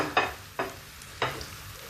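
Tempeh and chili stir-fried in a hot Tefal wok, with three distinct scraping strokes of a spatula over a steady soft sizzle of oil, close by and with nobody talking.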